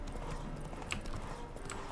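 Horse hooves clip-clop in The Witcher 3, a steady, busy patter under a constant wash of game ambience, fairly faint, with no voice on top.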